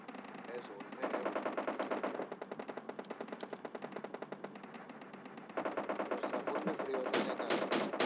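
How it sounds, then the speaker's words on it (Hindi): Rapid automatic gunfire in PUBG Mobile, fired from a house during a TPP squads match, comes in long rattling bursts with sharper volleys near the end, while players talk over it. "पर घर से फायर हो रहा है"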